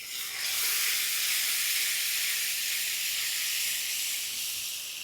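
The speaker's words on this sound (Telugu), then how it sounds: "ఇలా ఉడుకుతున్న ఈ గ్రేవీలో" Masala gravy for bagara baingan boils in a pan, giving a steady, bright hiss of steam and bubbling that holds evenly for several seconds with no talking.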